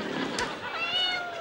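A battery-operated toy cat lets out a short electronic meow, with a voice speaking over it in a brief indoor exchange.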